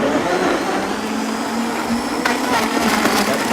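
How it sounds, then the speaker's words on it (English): A Vitamix blender runs at full power, a loud, steady whir with a constant hum underneath that picks up more rattle and churn in its last second. "that just kind of gets the blender going and gets everything ready to go"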